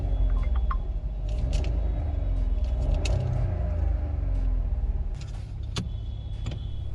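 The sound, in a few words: Skoda Kushaq 1.5 litre TSI engine idling after start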